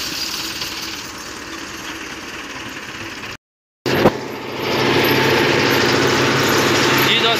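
A tractor engine runs steadily while reversing to hitch a suhaga plank leveler for wheat sowing. The loud, continuous rumble breaks off briefly, then returns slightly stronger.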